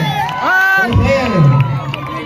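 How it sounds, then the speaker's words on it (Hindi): Stage show audience at a dandiya program in Patna cheering and whooping loudly over clapping, excited shouts and a child's high cry rising above the crowd noise close by. "अभी तुरंत तालियों में और शोर करके बताइए"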